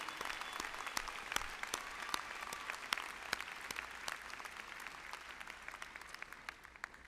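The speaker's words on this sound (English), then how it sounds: "Will the audience please join me in applauding these honored graduates and honors candidates?" An audience at a university spring commencement ceremony applauds honored graduates and honors candidates, a steady, dense patter of many hands clapping at moderate distance throughout, with no talk over it.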